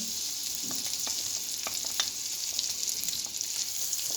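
Sheep tail fat melts in a cauldron on the stove for Gaziantep-style liver kavurma, making a constant close hiss dotted with small pops and crackles, and no one talks.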